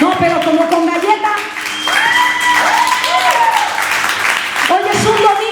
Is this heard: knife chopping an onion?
no